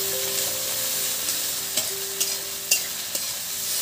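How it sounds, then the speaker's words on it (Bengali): Chopped onions frying with rohu fish in a pan are stirred, giving a steady close sizzle with a few sharp scraping clicks of the spatula against the pan and no voices. "এবার এর মধ্যে দেখুন এই যে পেঁয়াজ কুচি কুচি করা ওগুলো আমি দিয়ে দিচ্ছি। এবার এটা কিছুক্ষণ আমি একটু নেড়ে চেড়ে নেবো।"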